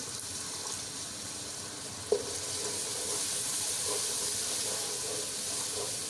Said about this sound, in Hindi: हल्का सा मैं पानी इसके अंदर डालूंगी।